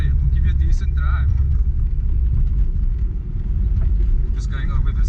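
Inside a Mk1 Golf on budget cut springs, crossing one of the area's roughest roads: a loud, constant low rumble of tyres and suspension, with occasional rattles and a voice speaking over it.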